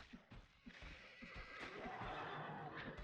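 A horse in a video game neighs and whinnies, a loud rising call over scattered hoof-like thumps and steady game background sound.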